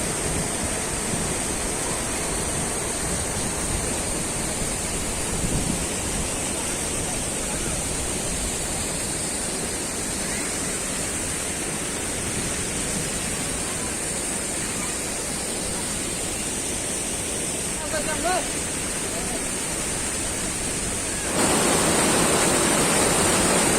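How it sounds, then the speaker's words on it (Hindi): Several small waterfalls at Usri Falls in Giridih give off a steady, broad rush of falling water that stays loud and unbroken throughout, with no voices over it. "देखिए इधर छोटा छोटा बहुत सारा झरना है।"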